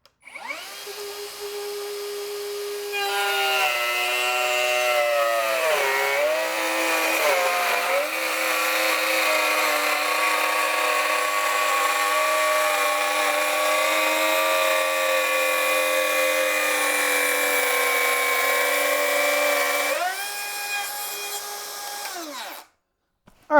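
A Metabo HPT cordless 2-1/4 HP router spins up and cuts a half-inch deep pass in red oak, a loud steady high whine with a dip as the bit bites in, then winds down at the end.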